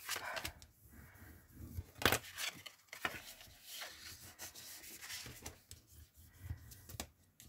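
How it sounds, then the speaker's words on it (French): Folds being creased by hand, close dry rubbing and scraping strokes with a few sharper cracks, quiet and uneven, no talking. "Je marque mes plis avec vous."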